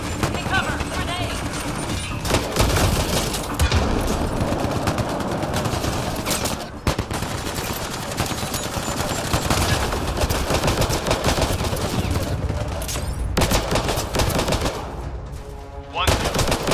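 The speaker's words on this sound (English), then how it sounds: "I'm using the wrong gun for this job. Let's switch to the pistol." Gunfire in the Mass Effect Andromeda video game, with dense, continuous bursts of automatic fire and scattered shots running through nearly the whole stretch amid game effects and talk.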